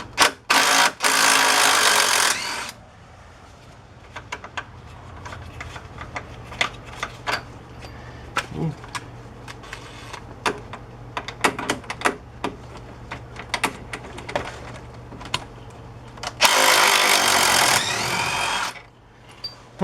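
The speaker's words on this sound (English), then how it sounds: "We'll put the impact on them and see what happens." An impact wrench zips off the lower strut bolts on a 2007 Chevy Avalanche Silverado, two loud rattling bursts at the start and near the end, with clinks and light shop handling noise between.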